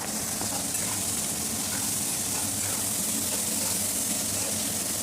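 Potatoes frying in a pan with a little salt and turmeric, giving a dense, even, close sizzle that holds steady throughout without talking.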